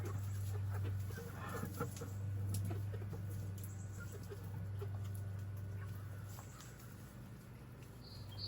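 Chickens clucking and scratching about in a garden run, with a steady low hum running underneath throughout and no talking.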